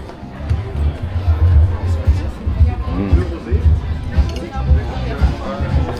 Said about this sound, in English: It's insane, the amount of people here.